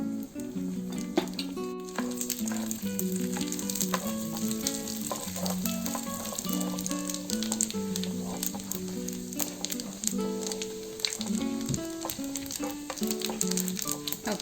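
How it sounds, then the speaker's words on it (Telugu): Tempering seeds and dals (chana dal, urad dal, mustard and cumin) fry in half a spoon of ghee, a steady close sizzle with light popping and stirring under background music, with no talk. "1/2 స్పూన్ గీ వేసుకున్నాను. తాలింపు గింజలు వేసుకున్నాము."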